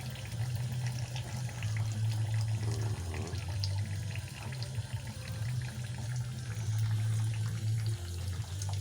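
Fluid drains from an unscrewed hose on a Ford Mondeo 4 engine, a steady close trickle and splash of liquid running continuously with a low hum in the background.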